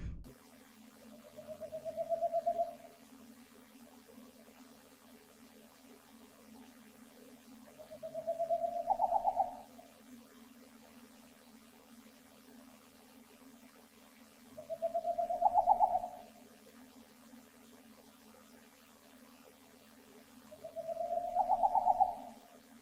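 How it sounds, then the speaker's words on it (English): Four separate low recorded owl hoots, each a soft drawn-out call spaced several seconds apart over a steady low hum. "I'll share a few owl sounds with you so you get an idea of what I'm looking for"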